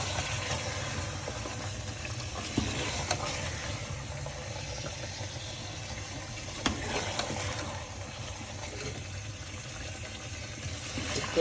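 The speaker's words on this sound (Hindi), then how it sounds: "तो दरमियानी आग पे हम इसको थोड़ा भूनेंगे" Chicken pieces frying in oil and masala over medium heat for aalo gosht, a steady low sizzling hiss running throughout with a couple of brief clatters, moderately quiet and close.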